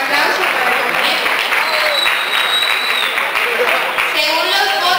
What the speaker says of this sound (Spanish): También un aplauso para el compañero.